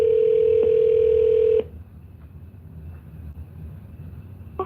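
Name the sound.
telephone dialing tones while calling a caller back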